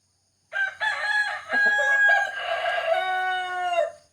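A fighting rooster crows loudly and close by, a long harmonic call with a few clucks in between, held for about three seconds with no talking.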